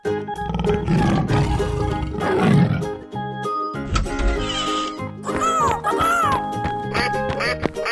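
In a 3D animal sliding game, a tiger roars loudly and growls in rough bursts, followed by a cluster of squawky, quacking animal calls and busy game sounds, all dense and up close.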